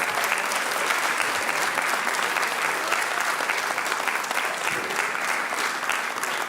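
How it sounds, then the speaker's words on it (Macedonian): Sustained applause from the audience at a stand-up comedy festival in Macedonia, a dense, steady wash of many hands clapping at even loudness throughout, with no speech over it. "Држете го аплаузот за Зоран Донев"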